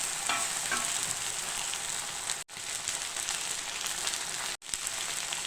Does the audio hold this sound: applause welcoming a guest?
no